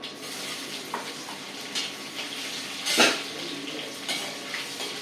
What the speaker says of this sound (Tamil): இப்போ நான் வெங்காயத்தை போட்டேன்